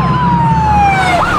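A loud police siren wails from a TV drama, its tone sliding steadily downward, then sweeping back up in a brief rising whoop near the end, close and continuous without speech.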